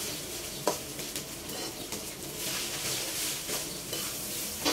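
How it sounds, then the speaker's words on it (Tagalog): Cooked rice sizzles and fries in a pan as a spatula stirs it for breakfast, a steady close hiss broken by scraping and tapping strokes, with no talking. "So, gusto ko i-fry ko muna yung kanin."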